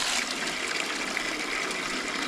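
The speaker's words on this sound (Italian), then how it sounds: "Getto d'acqua bellissimo, comodissimo arrivarci." A strong jet of water pouring from a public fountain near Siena and Volterra, a steady, loud, broadband gushing hiss with no pauses, heard close up.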